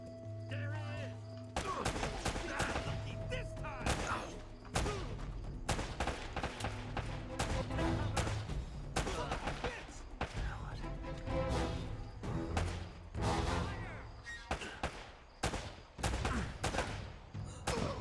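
Shooter video game combat, with dense rapid gunfire, bursts of automatic fire and heavier blasts that could be grenades, loud and nearly continuous throughout, with a voice talking over it at times.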